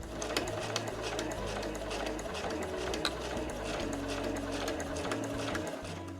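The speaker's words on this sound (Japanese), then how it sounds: "最後は返し縫いをします。" A sewing machine backstitches the seam of a reversible drawstring tote bag, sewing navy top thread over beige bobbin thread in a steady, close mechanical whir that runs throughout, with the needle clattering rapidly.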